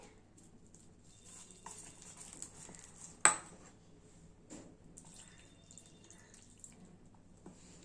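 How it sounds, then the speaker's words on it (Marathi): A spoon clinks and scrapes in a bowl as flour batter is mixed with water. Quiet, sparse stirring is broken by one sharp metallic knock partway through, with faint watery sounds underneath. "थोडं थोडे पाणी टाकायचे आणि मिक्स करूया"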